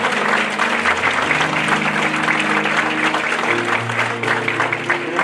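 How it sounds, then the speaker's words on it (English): Congregation clapping hands in praise during a church altar service, a loud, steady wash of applause with sustained organ or keyboard tones underneath throughout. "You give the Lord a good hand clap and praise."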